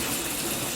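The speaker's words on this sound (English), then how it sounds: "And now the shower." RV shower running off a Seaflo diaphragm pump, a steady dense hiss of spraying water with a faint underlying pump hum, close and continuous, no talk.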